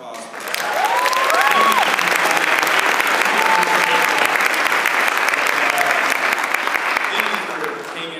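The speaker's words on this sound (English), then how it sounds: "let's give them a round of applause" Round of applause from a crowd, a loud dense wash of clapping that swells in quickly, holds steady for several seconds with some cheering mixed in, then tapers off at the end.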